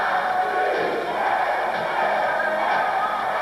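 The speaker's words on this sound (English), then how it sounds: "the crowd is going bananas" An arena crowd at a 1981 indoor soccer game between the New York Arrows and Memphis Americans roars and cheers in a dense, sustained wall of noise, with shouts rising above it.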